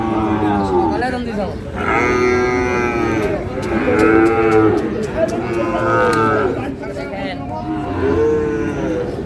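Cattle lowing at a busy market where Sahiwal bulls and calves are sold, with several loud, drawn-out moos close by, one after another, over a constant crowd murmur.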